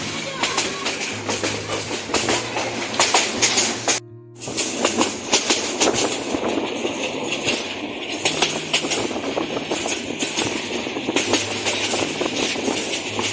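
The Parabat Express passenger train runs from Sylhet to Kulaura, giving a steady rumble and clickety-clack of wheels on rails heard from on board. Loud, continuous motion noise is briefly cut by a short drop near four seconds, and voices mix in faintly.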